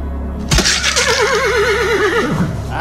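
A horse in the video game Lithium: Inmate 39 gives a loud, close, wavering whinny lasting about two seconds, starting with a sudden burst over a low background rumble.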